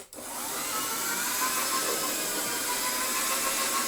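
A restored Hoover shampoo-polisher motor hums steadily and loudly at close range, a constant whirring drone that carries on without a break and with no voices.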